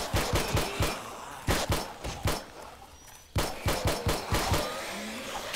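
Pistol shots in the zombie survival game 7 Days To Die crack out in quick bursts of three to five sharp reports, paused briefly between volleys, loud and close over a faint background.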